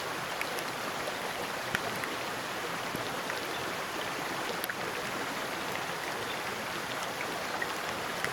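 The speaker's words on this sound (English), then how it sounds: "It is absolutely bucketing down at the moment." Heavy rain pouring down outdoors during a trout fishing trip, a steady even hiss of drops with faint scattered patters on nearby surfaces, soft and constant throughout with no talking.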